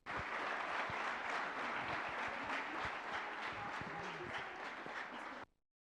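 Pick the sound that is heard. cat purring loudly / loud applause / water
loud applause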